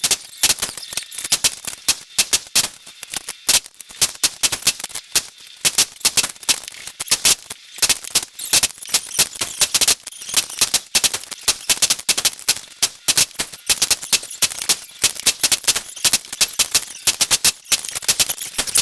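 Rapid sharp cracks from rifle fire at a shooting match during load development testing, a dense near-continuous run of loud reports with no talk.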